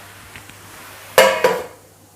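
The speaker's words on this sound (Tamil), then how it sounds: "இப்போ நாம் மூடி போட்டு வேக வச்சுக்கலாம்" A lid goes onto a cooking pot of chicken pallipalayam with two sharp, close metallic clanks in quick succession against a quiet background, with no talk.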